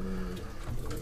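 Soft, low cooing of adult racing pigeons inside a pigeon loft, a continuous murmur of calls close by and fairly quiet, with no talking.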